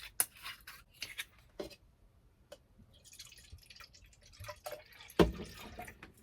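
Barefoot Riesling wine poured into a glass inside a 2018 Travato camper van, soft trickling and dripping with scattered small clinks and a brief sharp knock, no talking.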